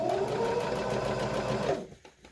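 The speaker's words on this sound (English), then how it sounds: "And I'm going to pull this section apart now, and I'm going to keep top stitching." A sewing machine runs steadily, top stitching a fabric hospital-style face mask, its loud continuous whir lasting about two seconds before it stops.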